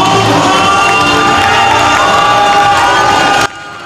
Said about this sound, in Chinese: 一旁的县府员工高兴的不断尖叫